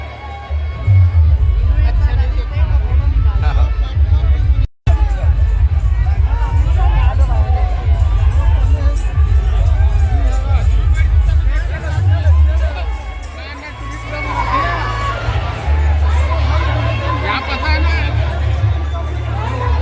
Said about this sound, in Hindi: भीड़े के मारे कहीं देखे नहीं मिला, इसे कम से कम जगह मिले है।